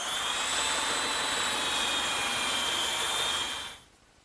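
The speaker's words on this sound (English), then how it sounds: "I thought I'd sand down these dowel pins. They're sticking out just a little bit. And to do that, I'm just going to use my little belt sander." A small belt sander grinds down protruding wooden dowel pins on a kitchen worktable, a loud, steady abrasive whine that runs evenly for a few seconds, then cuts off abruptly, leaving quiet.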